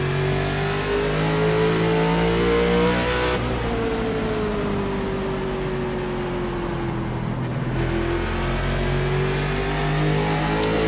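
NASCAR stock cars roar steadily around Irwindale in iRacing, a loud, continuous engine drone with shifting pitch as the cars accelerate through turns, a brief dip in the middle, with no talk over it.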